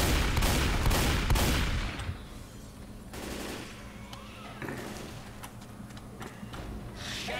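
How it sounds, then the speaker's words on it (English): Zombie-fighting gunfire in Left 4 Dead 2: a loud cluster of rapid shots at the start, then quieter scattered pops and game noise over a steady low rumble. "You are shooting me."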